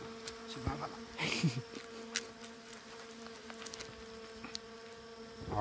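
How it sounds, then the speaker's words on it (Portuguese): Bees buzz during a honey harvest, a steady insect drone with a few louder passes close by, over faint handling clatter and background noise, with a voice briefly in the mix. "É um grande abelha, ó"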